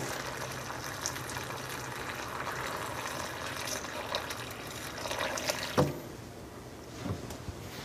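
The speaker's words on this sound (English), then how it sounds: "We have hot water immediately out of the tap right here." Hot water streaming from a kitchen tap, a soft continuous rush and trickle that stops near the end, with a few small clinks afterward.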